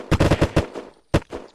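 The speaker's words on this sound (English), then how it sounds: "I hear gunshots." Gunfire in the survival video game Unturned: a rapid burst of about five loud shots, a short pause, then another quick pair of shots, close and punchy.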